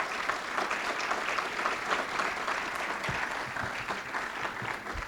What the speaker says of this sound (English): Could we give our councilors a round of applause,